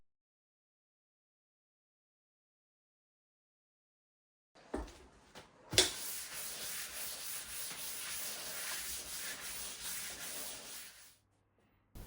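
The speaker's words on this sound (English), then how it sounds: "I'm using a belt sander to remove the excess epoxy and smooth out the whole desktop" Belt sander smoothing excess hardened epoxy off a wooden desktop: after silence and a couple of knocks, a loud steady abrasive whirring hiss runs for several seconds, then stops abruptly.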